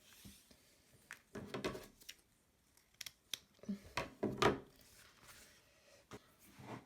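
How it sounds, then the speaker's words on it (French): Scissors snipping two small pieces of ribbon for sewing a drawstring pouch, several crisp close cuts in short clusters with quiet handling noises between them. "On va couper deux petits morceaux."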